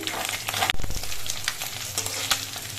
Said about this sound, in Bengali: মাছগুলোর এক পিট কিছুক্ষণ ভাজা হয়ে যাওয়ার পর মাছগুলো আমি উল্টে দিচ্ছি